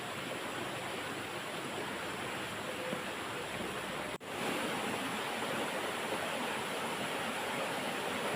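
A clean river flowing through a village in inland Kalimantan, a loud, continuous rushing wash of water heard close by, briefly cut off midway.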